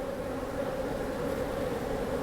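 Honey bees crowd a queen-rearing grafting frame, their buzzing a steady, close, droning hum that holds without a break.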